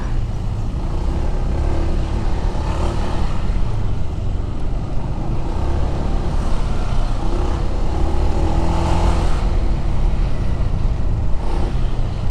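Steady engine drone and wind rush from a Honda ADV 160 scooter being ridden, continuous and moderately loud with no talking.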